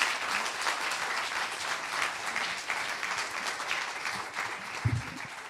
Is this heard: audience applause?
yes